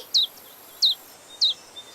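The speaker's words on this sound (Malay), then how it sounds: "Burung pun menyanyi." Cartoon birds sing in three short, evenly spaced high chirps, each a quick rising-falling tweet, clear and alone over a faint hiss.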